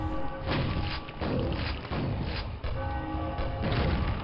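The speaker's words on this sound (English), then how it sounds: "How long is the bell going to toll, though," Tower bell in a fantasy video game set in an underworld fortress, tolling in heavy, booming strikes roughly every second over a dense, loud background rumble.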